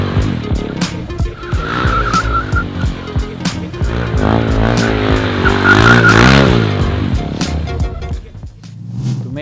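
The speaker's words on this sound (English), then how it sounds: "You do that by adding more throttle to lose the grip on the back tire, and you can lean and slide the bike on the floor." A motorbike drifting, its rear tire breaking traction under added throttle and sliding as the bike leans across the floor, with a loud, continuous engine roar rising and falling throughout and tire-squeal tones over it.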